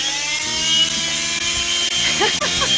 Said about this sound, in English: the Multimaster doesn't cut your skin because soft material like your skin gives with the patented oscillating movement